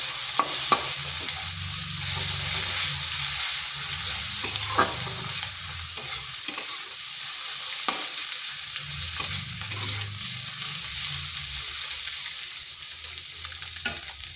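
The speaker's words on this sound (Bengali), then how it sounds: "এরপর মশলার সাথে মিশিয়ে দিচ্ছি।" A spice mixture fries in a pan for a potol and egg curry, with a constant crackling sizzle broken by repeated scraping strokes of a spatula stirring close up.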